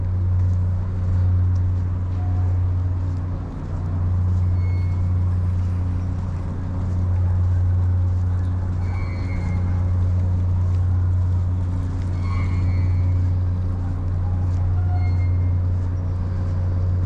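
Boat engines run loud and steady on the water at Kobe, a continuous low droning hum with faint higher clatter and ambient harbor noise, no talking.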